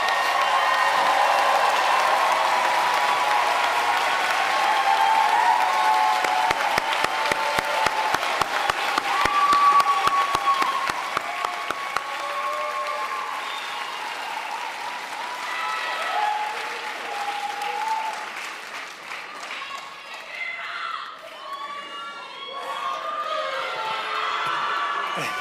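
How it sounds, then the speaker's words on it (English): Applause for graduates at a college commencement ceremony fills a large space. A broad crowd claps steadily, then it thins into scattered cheers, whoops and voices toward the end. "Let's give our graduates another round of applause"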